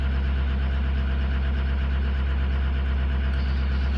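A cold-started 2006 engine idles steadily and close, a constant low rumble with a faint ticking texture running unchanged throughout, with no voices.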